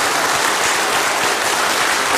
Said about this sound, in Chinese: 让我们以热烈掌声谢谢龙翔辉老师